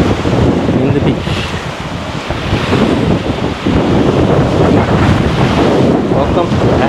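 Ocean surf and gusting wind at Asbury Park beach on the New Jersey shore, a continuous loud roar of breaking waves with heavy wind buffeting the microphone throughout.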